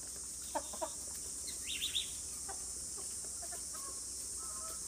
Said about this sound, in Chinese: 小八哥，你在干嘛？